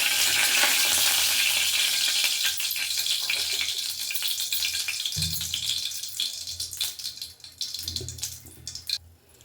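Ghee heats in a pan as the first step of a lentil sambar, giving a steady close sizzle with stirring and scraping, a few dull thumps near the end, and no talk.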